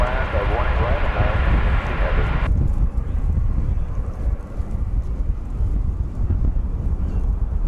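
A SkyWest airliner passes overhead at DFW Airport, its loud broadband engine roar filling the scene with wind buffeting the microphone, while people talk over it.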